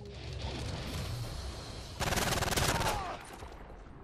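Rapid automatic gunfire from a Modern Warfare 3 multiplayer match, a dense burst of loud shots for about a second amid steady game noise.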